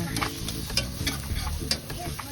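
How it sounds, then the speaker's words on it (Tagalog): Garlic sizzles in hot oil in a pan, browning for pancit canton, with a steady frying hiss and a few scraping stirs of a utensil over about two seconds. "Tapos ilagyan na natin ang, syempre, ang garlic. Yan, so inuuna ko talaga ang garlic. Kasi pinapa-brown ko siya."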